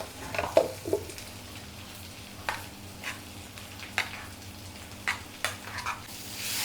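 Crushed peanut powder being stirred into fasting sabudana-style khichdi in a pan, with a soft low sizzle under intermittent scraping strokes of a spoon, fairly quiet and close.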